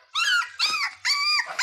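A small dog gives four sharp, whiny barks in quick succession, close and loud, in a quiet indoor setting with a slight growling edge.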